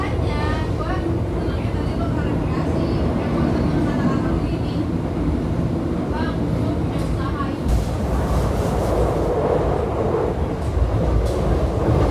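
The Argo Cheribon executive-class train pulls out of Jatibarang station in Indonesia, a steady loud rumble and rail clatter heard from on board, with someone speaking over it throughout.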